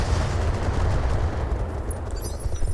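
Weapons fire from battling mechs in the video game Battletech Roguetech: loud, dense, continuous rumbling volleys of gunfire and blasts that blur together, close and heavy, with no talking over them.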